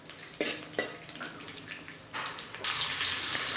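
Raisins and cashews frying in oil in a pan with spices, a steady sizzling crackle that swells louder toward the end, close and alone with no voices.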